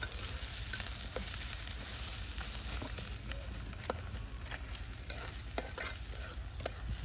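Purple swamphen (kalim) meat frying in oil in an outdoor village cook-up, with a dense continuous sizzle broken by scraping stirs and small pops throughout.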